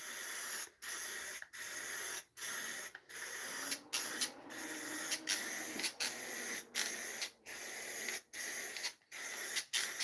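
An aerosol can sprays lacquer onto boxes in repeated bursts of loud, steady hiss separated by brief pauses, near and continuous, with the can seeming to weaken.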